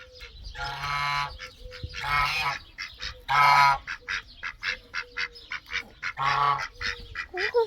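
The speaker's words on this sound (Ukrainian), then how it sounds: "Гусочка." Geese on a farm in Italy honk repeatedly, a series of loud nasal calls in bursts, some long and others short and rapid, close by with no voices over them.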